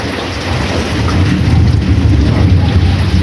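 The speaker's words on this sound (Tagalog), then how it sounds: "dahil malakas ang ulan at malamig" Heavy rain falls in a loud, continuous roar that swells slightly midway, with low rumbling noise beneath and no talking.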